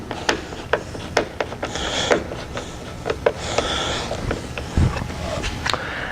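A bolt on a Wolverine full-tilting UTV windshield is tightened with a ratchet, producing a string of close, irregular clicking ratchet strokes with brief rubbing and metallic handling noises in between.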